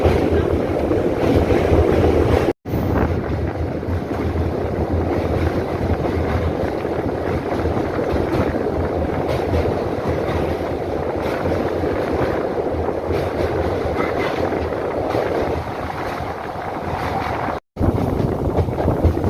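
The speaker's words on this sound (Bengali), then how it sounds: "নরঘাট ব্রিজ পার করছে আমাদের ট্রেন" The Digha Asansol Express crosses the Narghat bridge over the Gomti river, heard from on board as a loud, steady rumble mixed with wind buffeting, interrupted by two brief dropouts.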